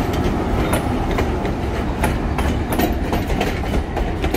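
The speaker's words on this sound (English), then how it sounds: "There goes the train." A tourist train rolls past in Snoqualmie, Washington, its wheels giving a loud, close, continuous rumble with rhythmic clickety-clack over the rail joints.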